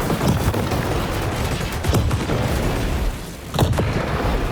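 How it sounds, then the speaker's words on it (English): Cannon fire and explosions from the War Robots: Frontiers mech battle game, with double damage on the cannons, roll out as a dense, continuous barrage of booms. Heavier bursts land near 2 and 3.6 seconds. "The damage from the cannons."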